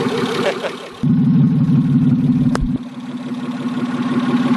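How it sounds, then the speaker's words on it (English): A loud, raw brand-new car engine running with no exhaust bursts into a rough, rattling idle up close, then drops to a lower steady rumble; a brief sharp click cuts through. "It's a brand new engine with no exhaust."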